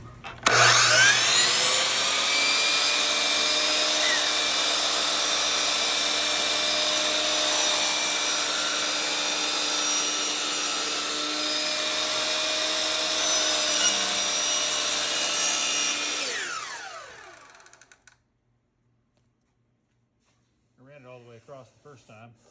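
A power saw rips through a thin luan plywood panel with one long, loud, steady whine lasting about sixteen seconds before spinning down, and a voice speaks briefly once it stops.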